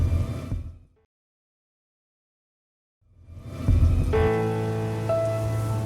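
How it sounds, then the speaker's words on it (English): A windy rainstorm effect in an animated story, with heavy rain pattering on a surface that cuts to dead silence for about two seconds, then swells back in loudly and holds steady. "suddenly, the wind and rain blew against him."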